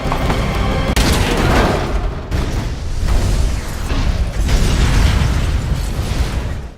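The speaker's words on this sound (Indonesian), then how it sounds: "Syukur saja mereka berdua berhasil selamat dari ledakan tadi" Bomb explosion in a film scene, a loud, sustained roaring blast with rumbling debris and crackling bursts that stays dense and powerful for several seconds before cutting off.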